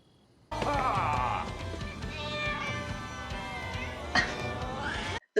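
Computer-animated cats in a film meow and caterwaul loudly and continuously for about five seconds, with overlapping cries and a sharp yowl near the end.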